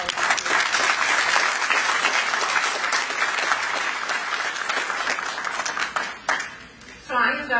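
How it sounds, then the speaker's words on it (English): Audience applause at a commencement ceremony, a dense steady wash of clapping that fills most of the stretch before thinning out near the end. "You guys yourself deserve an applause for everything you've done to help us do that."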